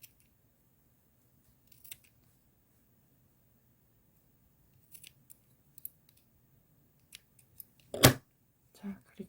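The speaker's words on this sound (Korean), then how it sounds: "이렇게 잘라주세요" Scissors cutting fabric for a child's winter beanie hat, a few soft, quiet snips scattered over near silence, ending with one sharper close snip and a short rustle.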